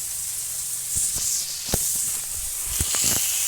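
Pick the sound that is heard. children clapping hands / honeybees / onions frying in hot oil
onions frying in hot oil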